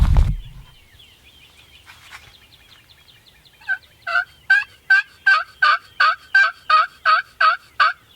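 A wild turkey gobbles over and over in a quick, evenly spaced series, fairly close and clear against a quiet outdoor background after a faint early stretch.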